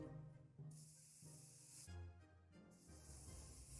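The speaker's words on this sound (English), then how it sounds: "We decided to spray the hell out of that vent just to be on the safe side." In the video game 60 Seconds, bug spray hisses into a vent in several bursts, with short pauses between the sprays, close and fairly loud.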